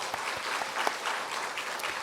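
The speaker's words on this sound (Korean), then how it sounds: "우리 한번 박수합시다" Church congregation at a Korean Sunday worship service claps together, a close, continuous patter of many hands with a few sharper individual claps standing out over two seconds.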